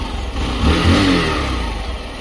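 A motorcycle engine starts up and revs on a ride to a Ganpati temple at Devgad, a steady close mechanical rumble that swells in the middle and then settles back to a running idle.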